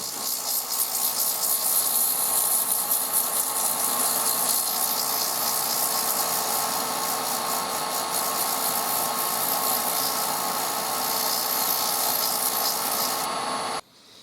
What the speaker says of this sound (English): just to get this all sanded and polished up, and then we'll fit this onto the box